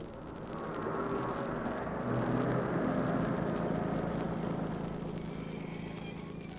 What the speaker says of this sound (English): Is that a car coming behind us? Yes, and it's rolling right along.